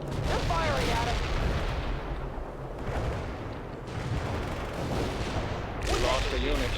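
Battlefield gunfire and artillery in the World in Conflict: Soviet Assault strategy game, a steady loud wall of shots and booms with bursts of fire, and voices talking over the din.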